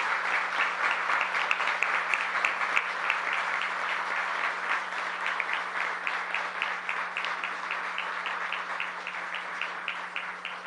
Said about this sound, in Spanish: Si la sala podría tributar un caluroso aplauso a estos 24